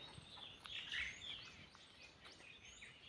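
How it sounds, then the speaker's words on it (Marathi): Sparrows chirping in quick, scattered bursts, fairly faint and a little distant, over a soft outdoor background in a cool, quiet village hillside setting. "चिमण्यांचा आवाज येतोय"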